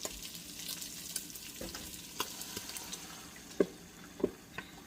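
Beaten eggs cooking in a hot pan with leftover bacon grease, giving a faint, crackly sizzle with a few sharper pops and clinks near the end, heard close and alone.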